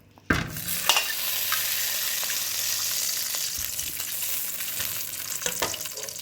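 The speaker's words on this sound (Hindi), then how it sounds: "सबसे पहले तो हम कढ़ाई में डालेंगे देसी घी और थोड़ी सी सब्ज़ इलायची।" Desi ghee with green cardamom heats in a kadhai, giving a steady close sizzle with faint frying crackle and occasional stirring clinks, and no one speaks.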